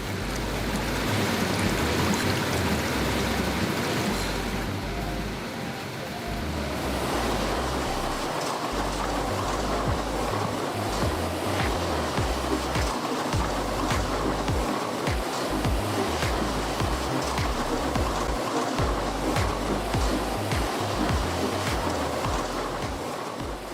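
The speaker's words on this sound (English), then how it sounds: "high-pressure fruit washing machine for proper rinsing" Water rushes and splashes steadily in a high-pressure fruit washing machine rinsing mangoes for juice processing, a continuous close, loud spray with no talk.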